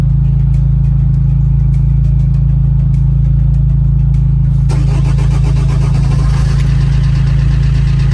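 A Vauxhall Corsa D 1.3 diesel hums loudly at idle from close range, then the engine catches about halfway through and settles into a steady, clattering idle.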